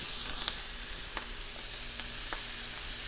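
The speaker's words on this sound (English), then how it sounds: "To this pan, I'm going to add our veggies." Vegetables for a corn hash sizzling and frying in a hot pan, a steady close crackling hiss with a few small pops and stirring clinks.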